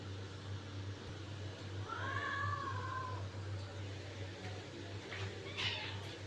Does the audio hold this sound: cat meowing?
yes